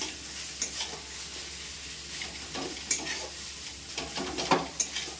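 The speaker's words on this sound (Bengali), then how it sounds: "ভালো করে মশলাটা এবার আমি কষতে থাকবো" Spice paste (masala) frying in a pan over a medium gas flame gives a steady close sizzle, with intermittent scrapes and stirring clinks from a utensil and no talking.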